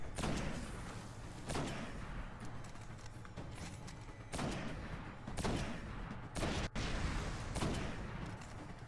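Gunfire in the video game Destiny during a gate assault: dense, loud, continuous bursts of shots and heavy impacts layered on each other, with several sharp louder blasts punctuating the barrage.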